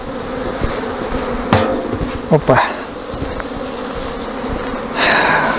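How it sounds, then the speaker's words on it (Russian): Honeybees fill an apiary with a loud, constant buzz as they swarm around the hives on an orientation flight. A few knocks and a short spoken exclamation break through the hum. "Вот пчелки работают."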